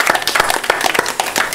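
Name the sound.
audience applause for Lady Farah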